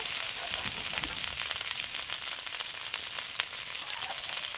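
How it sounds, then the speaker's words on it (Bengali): Tender radish greens frying in a pan make a soft, steady sizzle throughout, faint and close, with no voices over it. "মূলোর যে ভাজা হচ্ছে এত ভালো সেন্ট ছাড়ছে"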